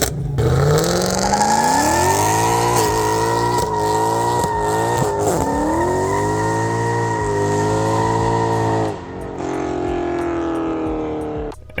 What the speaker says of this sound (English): we had to do some long tube headers and a tune, which really woke this thing up and more importantly, made it sound absolutely insane